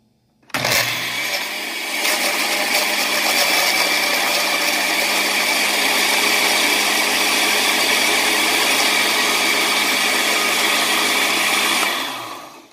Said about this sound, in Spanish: Y ahora lo vamos a licuar estos 2 ingredientes.